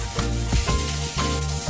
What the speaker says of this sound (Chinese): 炒洋葱出香味，加青豆、生抽炒香之后放米饭